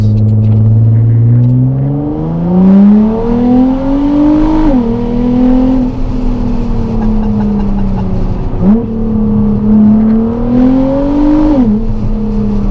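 A loud, deep Nissan GT-R exhaust, made far louder by a malfunction, drones steadily, its pitch rising and dipping with the revs, a harsh continuous roar with no voices.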